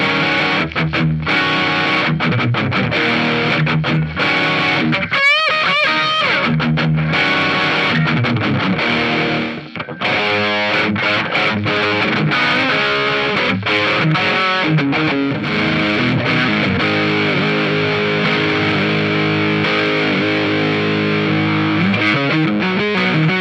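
A 2020 Gibson Hendrix Signature 1969 Flying V electric guitar played loud and continuous through distortion, classic rock riffs and chords ringing alone with no talk, briefly pausing near the middle.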